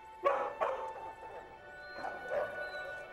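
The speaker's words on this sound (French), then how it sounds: "J'ai fait beaucoup aboyer." A dog yips and whimpers in short bursts, four or five clear yelps spread over a few seconds, near and fairly loud, with a faint background tone running underneath.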